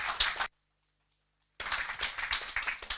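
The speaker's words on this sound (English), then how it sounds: "let's have a round of applause" Audience applause for a seminar panel at an oil and gas access event, heard as two bursts of clapping with a silent gap between them, the second burst sustained and fairly full.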